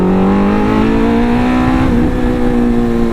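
Suzuki Hayabusa motorcycle engine held at a loud, steady high rev with strong harmonic whine, pitch dipping slightly and rising again near the end, close and continuous with no talk.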